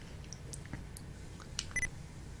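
Short electronic menu beeps from a digital voice recorder, a few faint, brief tones over quiet background hiss.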